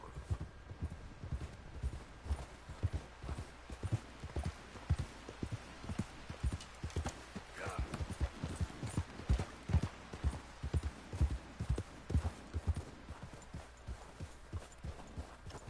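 Horse hooves clip-clopping at a steady walking pace in the video game Red Dead Redemption 2, a continuous rhythmic series of close hoof strikes on a quiet background.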